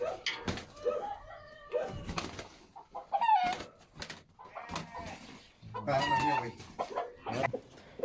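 Several roosters crow and cluck close by, with overlapping calls and short bursts of clucking across the whole stretch, and a few brief voices mixed in.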